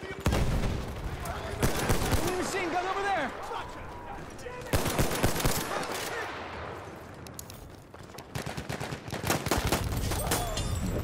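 Gunfire in Battlefield 1, including shots from a 1911 pistol, comes as loud clustered bursts and sharp single cracks, with someone talking over parts of it.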